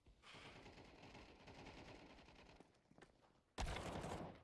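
Video game gunfire in a shooter, a long rapid automatic burst heard faintly, then a sudden louder blast of shots near the end.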